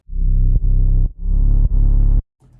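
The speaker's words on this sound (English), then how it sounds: "that is the 808 and it sounds like this" Saturated 808 bass in a trap-style mix, heavy and distorted with dense harmonics, sounding four long sustained notes with brief gaps, loud and alone before a short soft tail.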